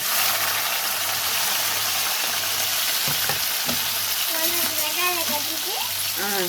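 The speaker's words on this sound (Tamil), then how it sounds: "வெங்காயம் நல்லா வதக்கணும்." Onions fry in a pan with popped mustard seeds and crushed ginger and garlic, giving a steady, close sizzle throughout. Stirring clicks and a voice are briefly heard over it.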